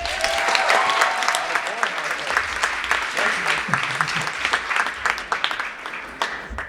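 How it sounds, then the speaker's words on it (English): Wedding guests at the Fairmont Chateau Laurier in Ottawa applaud during a speech, a full sustained round of clapping from the room that tapers slightly toward the end. "If I can get a round of applause"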